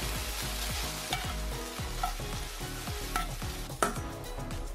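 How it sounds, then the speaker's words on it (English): Beef searing in hot cooking oil for Japanese nikujaga, a steady close sizzle and fry with repeated stirring or scraping strokes in the pan throughout, with no talk. "After heating up cooking oil, cook beef. Just sear surface of beef."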